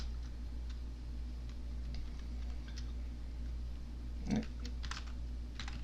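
Soft, scattered keystrokes tap on a computer keyboard as code is typed, irregular clicks sitting faintly over a steady low hum with no one speaking.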